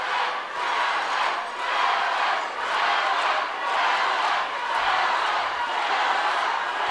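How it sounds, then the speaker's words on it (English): A crowd chanting at an amateur boxing event, a loud rhythmic mass of voices that swells and dips in regular pulses and fills the whole stretch. "I have no idea what the crowd's chanting."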